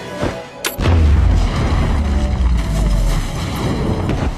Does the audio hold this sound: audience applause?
no